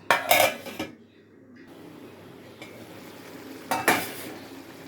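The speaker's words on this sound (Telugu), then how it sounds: "మూత పెట్టి ఉడికిస్తా ఫ్రెండ్స్." A lid is set onto a pot of simmering stew, making two short metallic clattering bursts about three seconds apart over a soft, steady bubbling hiss.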